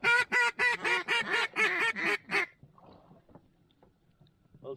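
Mallard and teal ducks quacking in a rapid series of about nine loud nasal calls during a cold, windy Iowa duck hunt, followed by faint scattered sounds and quiet.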